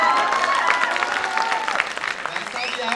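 A poetry recital audience, standing and clapping, applauds at a patriotic kavi sammelan; dense steady applause fills the space with some crowd voices mixed in.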